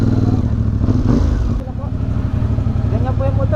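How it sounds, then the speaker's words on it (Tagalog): A motorcycle engine running close by, a loud steady rumbling drone that dips slightly midway, with faint voices underneath. "Ganyan po yung motor eh."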